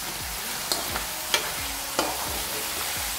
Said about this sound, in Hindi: इसको भी ओनियन के साथ मैं फ्राई कर लेती हूँ।